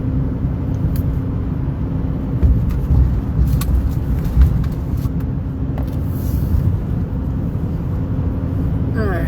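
A truck driving on a road at night, with a steady, loud low rumble of engine and tyres heard from inside the cab, continuous throughout.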